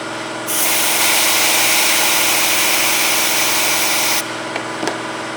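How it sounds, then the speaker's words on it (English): Air hisses loudly and steadily from a wheelbarrow tyre valve as it is pressed in, a broad rushing sound lasting several seconds before stopping abruptly, followed by a couple of faint clicks. "right now I'm letting air out of it"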